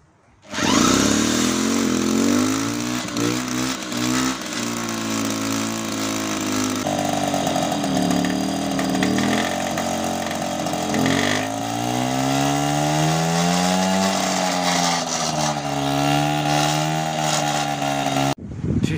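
A two-stroke moped engine runs close up for the whole stretch with a loud, buzzy, continuous drone that rises and falls as the throttle is blipped.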